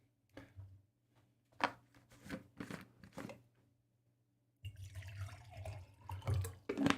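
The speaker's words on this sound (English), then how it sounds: "Get another glass of water." Water poured into a drinking glass, a faint burst of trickling and sloshing near the end that follows several soft knocks and clinks over a low steady hum.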